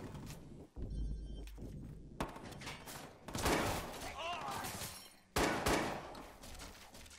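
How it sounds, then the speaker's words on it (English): Gunfire from a shootout in the Watch Dogs 2 video game, with bursts of shots breaking out in loud clusters over several seconds, mixed with other game noise and some talk. "this has turned into a right old shootout, hasn't it?"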